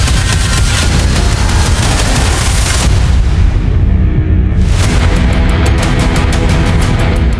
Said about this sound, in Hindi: रूस के 14 परमाणु बॉम्बर ने यूक्रेन के कई शहरों पर क्रूज मिसाइलों से हमले किए और लौटे।